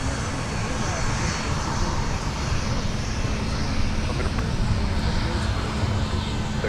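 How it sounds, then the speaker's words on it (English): Northwest Boeing 757-200 jet airliner at MSP airport, a continuous loud engine roar throughout, with faint radio chatter mixed underneath. "We got an X Northwest 757-200 making its way out to Tampa."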